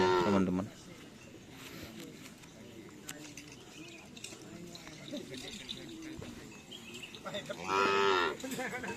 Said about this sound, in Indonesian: Deretan sapi kecil ya teman-teman.